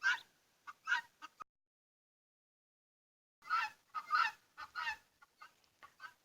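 Geese honk and squawk in two loud, close bursts of harsh calls, a short volley at the start, then a longer, denser run after a silent gap.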